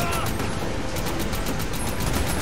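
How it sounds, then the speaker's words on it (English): Sustained, rapid gunfire from the video game Army of Two, with dense overlapping shots rattling steadily and loudly for the whole stretch and no pause. "This gun has a lot of kick."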